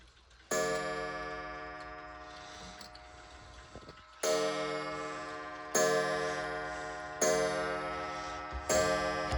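A Cassell clock ticking alone indoors, with its steady beat carried under sustained ringing chime or bell tones that strike four times with loud attacks and long decaying tails.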